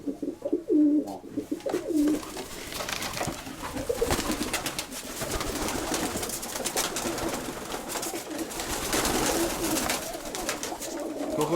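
A pigeon coos in low, repeated calls among other birds, steady and fairly close, with a busy noisy background throughout and no talking.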